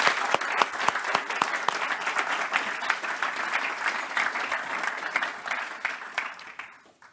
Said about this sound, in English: I think we need to show Finney a round of applause